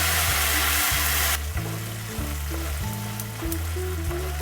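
Ground cashew paste hisses and sizzles in a pan while being stirred, a loud burst of frying that settles into a steadier crackle, with a droning background hum and no voices.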